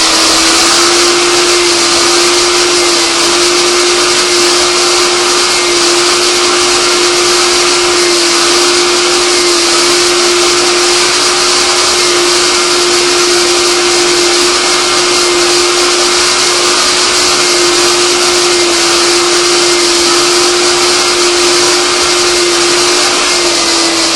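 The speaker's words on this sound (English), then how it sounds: "I'm going to use a vacuum, wet dry pickup, to pick up this spill." A wet dry vacuum picks up a spill, roaring loud and steady with a constant motor whine from start to finish, with no breaks or talk.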